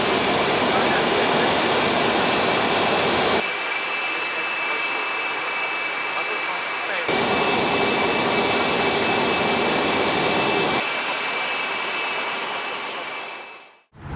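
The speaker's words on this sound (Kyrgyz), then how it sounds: "Кыргызстандын номер 1 борту Внуково 2 аба майданына конду." Loud, steady jet engine roar from the Kyrgyz presidential plane at Vnukovo-2 airfield, a continuous high whine over a broad rumble that holds for about fourteen seconds before cutting off abruptly.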